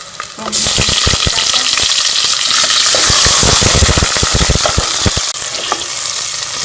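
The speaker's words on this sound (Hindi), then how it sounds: "चिकन को जो है वो कलर चेंज होने का अच्छी तरह से भून लेंगे।" Chicken pieces fry with golden onions in a pan for a lauki chicken salan, a loud, continuous close-up sizzle broken by rapid clattering from stirring.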